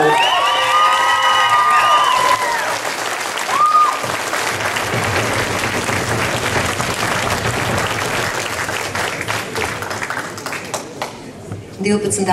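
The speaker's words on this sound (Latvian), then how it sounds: "Aplausus!" A school ceremony audience in Latvia bursts into loud, sustained applause with cheering and whoops, filling the room for about ten seconds as a token-award evening honours a class teacher, while a voice speaks over the start.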